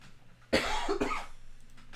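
A single harsh cough bursts out close to the microphone, followed by a rough exhaling tail in a quiet room.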